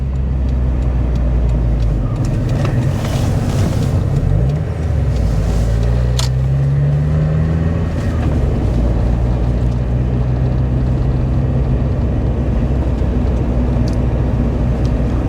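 Mazda Miata engine running after a timing belt and water pump replacement, a loud steady close idle and low rumble with a brief rev partway through, then settling back to an even hum.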